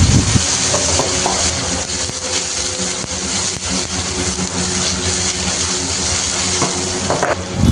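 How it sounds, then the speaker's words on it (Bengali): Thinly sliced onions fry slowly on low heat in a pan, a steady, dense sizzle that holds evenly throughout with no pauses and no talk. "এবার এটাকে ব্রাউন কালার না আসা পর্যন্ত হালকা আঁচে অনেক টাইম নিয়ে একটু ভাজতে হবে।"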